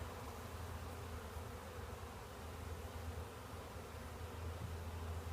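A dense, continuous hum of honeybees from a newly installed package swarms near the hive, a low, faint, even drone with no pauses or voices.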